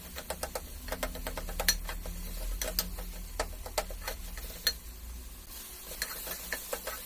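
Mustard powder is being stirred into ridge gourd frying in a pan, giving irregular spoon scrapes and clicks over a soft, steady sizzle, close and fairly quiet.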